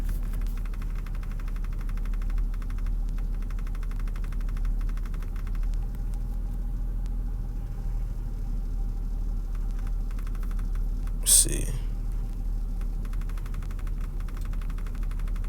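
A car engine runs steadily with a low constant rumble and vibration throughout, the cabin droning evenly, with one brief sharp knock or bang near the end and a short spoken phrase.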